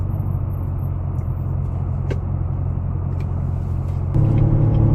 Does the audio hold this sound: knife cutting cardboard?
no